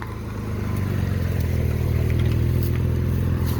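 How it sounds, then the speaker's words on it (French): A Porsche GT4 RS pulls away at a cars and coffee meet in Annecy, a steady loud engine roar that swells slightly as it accelerates, with no one speaking. "Je vais vous filmer l'accélération."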